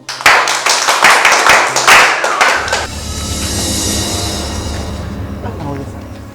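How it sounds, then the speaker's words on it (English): A classroom of students claps for a new French teacher, with dense, fast clapping for nearly three seconds that then gives way to a steady sustained tone carrying to the end. "Clap for French."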